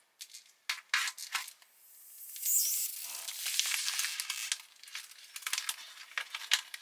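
Crinkling and tearing of stiff vacuum-packed plastic around a French emergency ration, with sharp crackles giving way to a longer hissing rip, close up, no talking.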